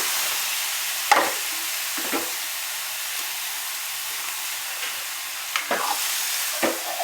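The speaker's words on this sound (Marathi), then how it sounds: "छान परतून घ्यायचं आहे आता" Cabbage with chana dal sautéing in a pan: a steady, close frying hiss runs throughout, broken by several spaced scrapes and clinks of stirring, with no talking.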